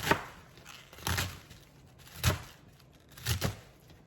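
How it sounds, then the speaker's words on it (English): Knife chopping through store-bought mustard greens on a cutting board, about four distinct crisp cuts spaced roughly a second apart, close and fairly quiet, with no one talking. "Slice them like that."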